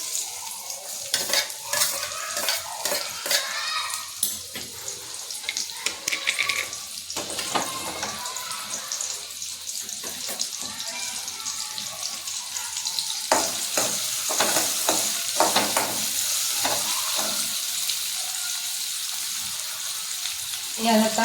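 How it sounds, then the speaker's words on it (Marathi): Onion frying in hot oil while cooking an ambadi sukat bhat dish, a steady crackling sizzle with stirring scrapes and utensil clinks throughout, close up and fairly loud. "तेल तापलं की त्यात कांदा टाकायचा आहे."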